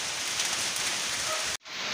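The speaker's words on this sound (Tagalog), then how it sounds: "pumapasok na naman ang ulan sa mga butas-butas" Steady rain patters densely, close and constant, leaking into a house through holes in the roof, cutting out briefly near the end before resuming.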